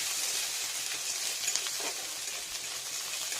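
Green chillies and mixed vegetables for Bengali sukto, including brinjal, runner beans, raw banana, bitter gourd, potato and tomato, sizzle steadily in a pan with a continuous crackling hiss and faint stirring scrapes, no voices.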